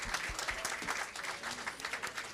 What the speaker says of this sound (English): let's give one more round of applause to our national team.